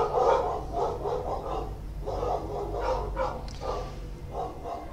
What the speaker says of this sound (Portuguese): Esse cachorro do nada fica louco